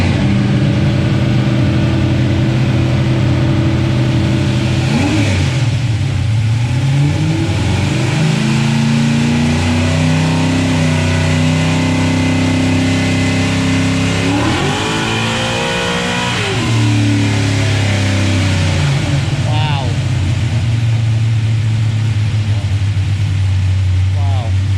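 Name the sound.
nitrous 363 engine with Powerglide revving on dyno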